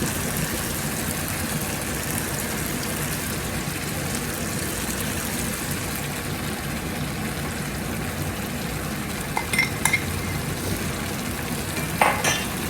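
Four beaten eggs go into a pan of frying potato curry, which gives a steady, dense sizzle throughout with a few light clinks of a utensil near the end.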